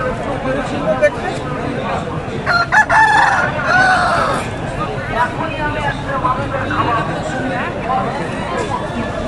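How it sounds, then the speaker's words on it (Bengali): Fighting roosters crow and cluck amid a noisy market crowd at a rooster fight, one crow rising clearly above the chatter midway through. "এখানে সব লড়াইয়ের মুরগিগুলো।"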